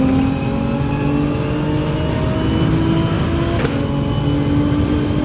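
A Porsche race car engine roars in a racing video game, holding a loud, steady drone throughout with no talk over it.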